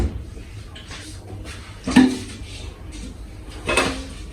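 Cake pans being handled in a home kitchen while preparing a vanilla cake, two sharp metallic clanks standing out over faint background shuffling, close and moderately loud.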